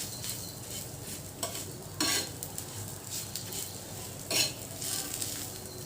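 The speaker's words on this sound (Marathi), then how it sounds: "तर तोसुद्धा आपण तेलात परतून घेऊया" Chillies frying in oil for a Maharashtrian mirchicha kharda, with a steady close sizzle broken by scraping stirs and a few sharp clinks of a spatula against the pan.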